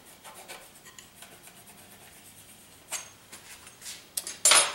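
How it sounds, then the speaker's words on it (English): A painting knife scrapes heavy oil paint across a canvas in a few short, dry rasping strokes, quiet at first and then louder and harsher toward the end, with no talk over it. "you can pick it up with the edge of a knife, just like you can hear me scrape it"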